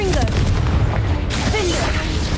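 Explosions from the Bombarda and Confringo spells in Hogwarts Legacy, fought against spiders: loud, continuous booming blasts and rumble, with a voice speaking over the din.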